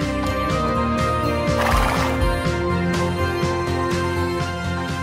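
A horse gives a loud whinny at a riding area while hooves clip-clop rhythmically throughout, close by, with no talk.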